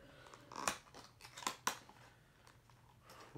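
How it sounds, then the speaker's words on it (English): Cardboard packaging of a 2023 Noah Gragson Wendy's Legacy Motor Club NASCAR diecast car being torn open, with a few sharp ripping bursts over a faint rustling background, close up and fairly quiet. "Rip the box apart there."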